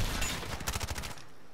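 A short burst of rapid automatic gunfire in Call of Duty Modern Warfare multiplayer beta, a quick string of sharp shots that stops abruptly into near silence.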